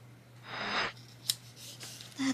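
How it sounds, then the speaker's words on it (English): Scissors cutting through planner sticker sheets, a close crisp snipping slice followed by a few short clicks of the blades, with no voices. "Just cut it. We'll just cut it."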